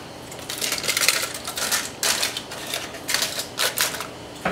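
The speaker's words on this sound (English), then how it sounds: "go ahead and remove that top layer of that aluminum foil" Aluminum foil being pulled back off a baked Coca-Cola spiral ham, a series of close crinkling, crackling rustles in irregular bursts with no talking.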